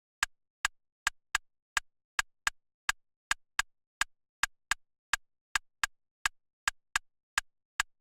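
Programmed drum pattern with a bouncy groove, a string of sharp, dry clicky hits in an uneven swung rhythm, about twenty strikes, crisp and close with silence between them and no voices.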